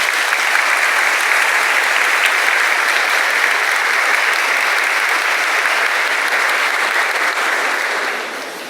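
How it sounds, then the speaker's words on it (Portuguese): Loud, dense applause from a large congregation in a Brazilian parish church welcoming confirmation candidates, an even wall of clapping that holds steady and fades slightly at the end. "nós então os acolhemos com uma salva de palmas"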